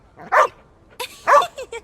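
A dog in the video game The Inquisitor gives two loud, close barks about a second apart, each short and sharp, with a fainter yip after the second.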